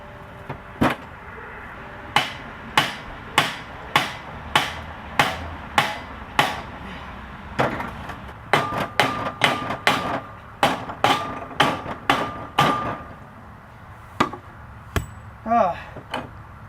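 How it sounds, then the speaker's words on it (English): A sledgehammer pounds the shaft of a cast iron 16 HP Briggs engine: about twenty heavy metallic blows nearby, evenly spaced at first, then coming faster, with no talk. "I've been violently beating this motor with a sledgehammer"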